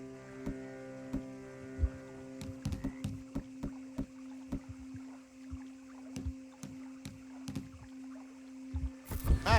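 A rowboat moves across water in the Red Dead Redemption video game: faint, evenly spaced wooden knocks and splashes of oar strokes over a steady low hum, fairly quiet, with no voices.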